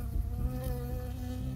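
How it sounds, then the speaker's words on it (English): Bees buzz in a swarm in the video game Firewatch: a close, steady, droning hum with no voices over it. "There were bees!"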